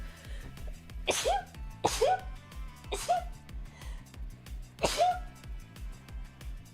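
Four sharp sneezes at irregular intervals, fairly close and loud, over a soft steady background hum.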